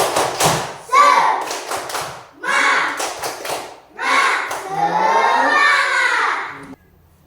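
Schoolchildren perform a rhythmic spirit clapping chant in a classroom, bursts of patterned claps alternating with shouted chanting voices, close and lively.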